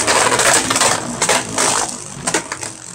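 Beyblade Burst spinning tops, a Cho-Z Valkyrie against a Slingshock top, grinding and clashing in a stadium, with loud metallic scraping and a few sharp collision hits over three seconds.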